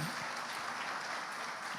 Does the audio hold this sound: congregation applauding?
yes